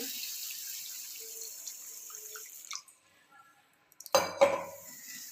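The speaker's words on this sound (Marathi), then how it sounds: "यात घालूया भरपूर पाणी" Water splashes into a bowl of washed rice after a quiet stretch, with a brief clatter of dishes and a few drips.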